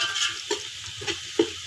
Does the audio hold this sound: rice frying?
yes